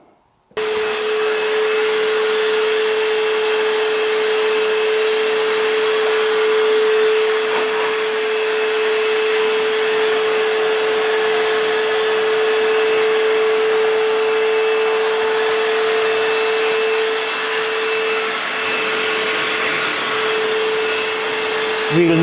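A workshop vacuum cleaner sucks up metal swarf, a loud continuous whine with a steady high tone running unbroken for over twenty seconds, close by with no talking.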